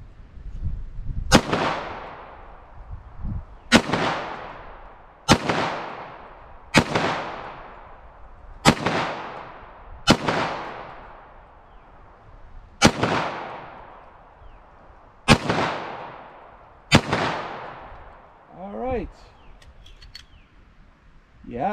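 Gunshots are fired at a low angle into water, about nine sharp, loud cracks spaced a couple of seconds apart, each trailing off in a reverberant echo, with a brief higher warbling sound near the end.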